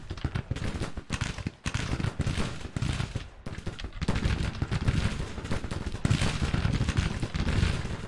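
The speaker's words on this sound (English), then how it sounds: "Artillery can fire and he's firing up on the enemy" Civil War cannon artillery in a strategy video game fires in a dense, continuous barrage of loud booms and crackling gunfire, overlapping heavily for the whole stretch with no pauses.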